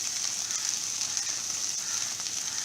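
Okra frying in a pan over a medium flame, a steady bright hiss and crackle that runs unbroken throughout at a moderate level, with no talking.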